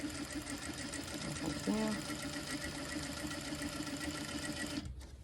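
A sewing machine stitches steadily around a fabric circle, its motor humming continuously with a brief spoken word near the middle, then stopping abruptly just before the end.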